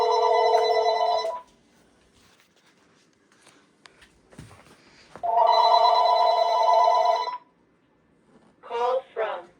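A kitchen telephone on a home phone system rings in two long electronic bursts separated by a quiet gap, followed by a short chirping tone, loud and close with some faint handling sounds between.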